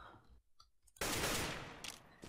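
Gunfire in the video game CS:GO, a loud burst of rapid shots that erupts after a quieter stretch and rings on for over a second, with a brief clicking beforehand.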